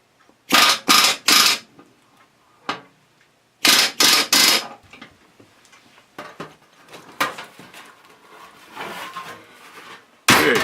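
Rivets being set on the aluminium upper boot cowl of a Piper Supercub Widebody: loud rapid bursts of rivet-gun hammering in clusters, separated by quieter taps and handling noises, with no talking.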